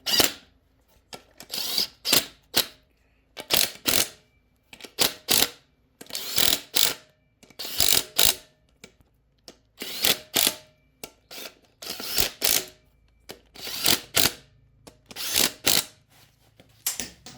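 A ratchet clicks in repeated bursts while tightening bolts on a TH350 transmission, short rapid pawl runs separated by pauses, close and fairly quiet, with no voices.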